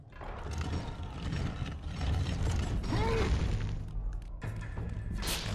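A heavy door mechanism grinds and creaks open in the video game God of War, a sustained rumbling mechanical drone with ratcheting and low thuds lasting several seconds.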